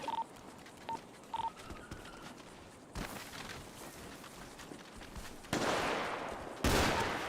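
Gunfire in a GTA V roleplay session sounds fairly quietly: a few short electronic beeps come first, then sharp bursts of shots, with louder volleys breaking out near the end.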